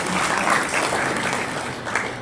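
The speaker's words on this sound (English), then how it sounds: "so a round of applause for them." An audience at an evening healthcare-executive education event in South Florida claps in a dense, steady wash of applause that holds strong for a couple of seconds before easing slightly.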